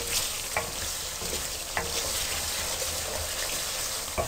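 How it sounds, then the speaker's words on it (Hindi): Chillies frying on high heat in a pan while a spoon stirs them, a steady close sizzle with a few brief scraping clicks, no talking. "1 मिनट के लिए चम्मच चलाएं।"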